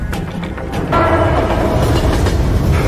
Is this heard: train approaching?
yes